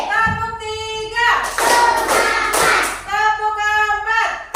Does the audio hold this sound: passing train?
no